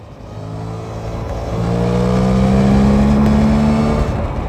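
A Suzuki GSX-8S motorcycle engine accelerates strongly, its note climbing and swelling over a few seconds into a loud, steady pull before easing slightly, close and with no talking.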